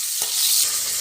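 Curry leaves and onion hit hot oil in a pan, a bright continuous hissing sizzle close up with a brief stirring scrape partway through and no voices.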